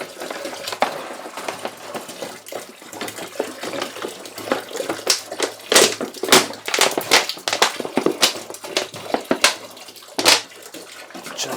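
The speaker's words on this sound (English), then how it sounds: "put the rest of our bottles of water in there" Bottles of distilled water pour into a home-brewing vessel, a loud continuous splashing and glugging stream with irregular bursts and sloshes, close up and without talk.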